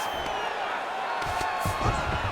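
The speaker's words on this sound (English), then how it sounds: "big pop from the crowd as they get back to their feet" An arena crowd at a UFC fight swells into cheering after a grappling exchange, with a commentator talking over a dense, loud roar.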